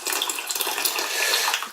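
Hot water runs from a tap into a cooking pan, a steady bright splashing rush lasting under two seconds, close and fairly loud.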